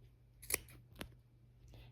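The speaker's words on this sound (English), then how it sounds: "So I just go and cut on both sides like that." Scissors snipping through the fabric seams of a rag quilt, two or three crisp close cuts in quiet surroundings, each a short sharp snap.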